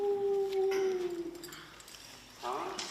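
A person imitates a wolf howl, one long sustained vocal note that slides slowly downward and fades, followed by a shorter rising vocal sound; close and fairly loud in a quiet room.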